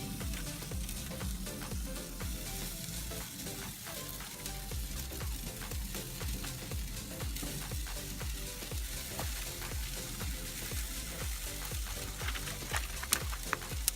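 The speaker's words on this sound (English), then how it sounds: "You can hear that straight away, sizzle." Chicken sizzles loudly and continuously as it sears on a very hot charcoal fire in a Tesco fire pit barbecue, with a steady crackling hiss and no voices.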